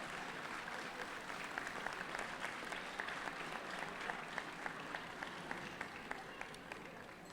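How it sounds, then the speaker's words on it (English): A crowd at a women's leadership luncheon applauds first-time attendees as they stand, with dense, steady clapping that holds evenly throughout. "We'd like for you to stand and be applauded."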